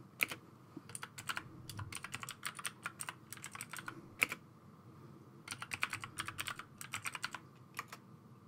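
Rapid bursts of computer keyboard typing while a password is entered, crisp clustered keystrokes in two main runs separated by a brief pause, close and clear with no talking.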